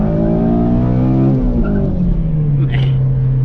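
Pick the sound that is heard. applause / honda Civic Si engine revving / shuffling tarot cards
honda Civic Si engine revving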